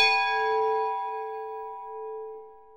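A single tolling bell from the Bells of Peace app strikes once, clear and resonant, its bright metallic overtones ringing out and slowly fading over nearly three seconds with no other sound.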